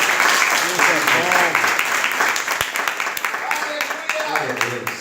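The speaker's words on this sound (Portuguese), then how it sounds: "Você pode aplaudir ao Senhor?" Church congregation applauding during a worship service, a steady wash of many hands clapping throughout, mixed with voices and a preacher speaking over it.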